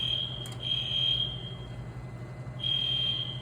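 A church fire alarm blares a steady high-pitched electronic tone in two long bursts, cutting out briefly in the middle before sounding again, loud and close over a low background hum.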